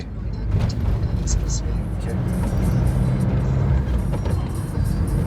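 Car cruising along an expressway on a road trip from Noida to Hajipur, a steady low road and engine rumble heard from inside the cabin, continuous and fairly loud with faint higher noises above it.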